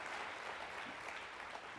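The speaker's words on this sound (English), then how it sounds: "Give her another round of applause." Audience applause at a UMass Boston open house event, a soft, distant continuous patter of many hands clapping with no talking.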